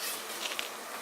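Aggressive bees swarm around a large honeycomb, a continuous close buzzing hiss with a faint tick or two and no voices.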